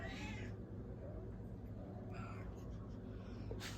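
A hungry house cat meows for food, several loud close cries with a short pause between, over steady background hum and no speech.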